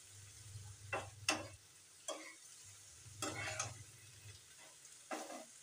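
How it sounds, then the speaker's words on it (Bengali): Prawn curry stirred in a frying pan after chili powder goes in: repeated scraping strokes over a low, steady sizzle, in irregular bursts with short pauses between them. "এখন এটাকে একটু নাড়াচাড়া করে সব মিশিয়ে নেব"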